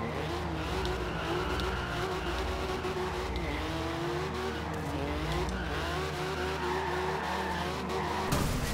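A 1982 Porsche 911 Turbo 3.3 on HRE wheels, drift-built in Forza Horizon 2, holds a long drift: steady engine drone with a shifting pitch and continuous tire squeal, loud and close throughout.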